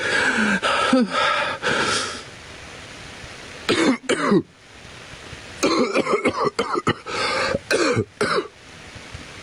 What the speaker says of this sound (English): he has a condition where he coughs